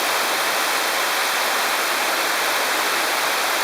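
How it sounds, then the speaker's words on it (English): The Amarun waterfall in the Ecuadorian Amazon pours in a loud, unbroken roar of falling water, close and steady with no other sounds breaking through. "waterfall"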